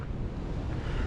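Steady wind roars across an exposed microphone on Wire Bald, a mountain on the Appalachian Trail, a continuous low buffeting rumble with no other sounds standing out.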